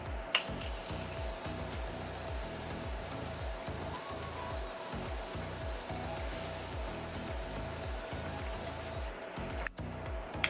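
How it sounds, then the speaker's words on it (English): A Morphe Continuous Setting Mist sprays onto a face in a long run of quick, evenly pulsed hissing bursts, close and steady for about nine seconds before a brief pause and a final puff. "I'm going to take the Morphe Continuous Setting Mist, and I'm going to spray my face"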